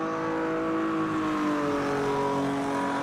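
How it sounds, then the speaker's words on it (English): A Brazilian stock car doing donuts, its engine revving in a steady, loud, harmonic roar that rises slightly, with no talk. "he's doing donuts back there"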